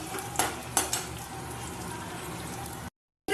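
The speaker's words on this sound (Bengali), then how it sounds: "ফোড়ন আর পেঁয়াজ একসাথে ভেজে নিচ্ছি" Onions and whole spices fry together in oil for egg biryani, a steady close sizzle with a few sharp spatula clanks early on, ending abruptly in a brief silence.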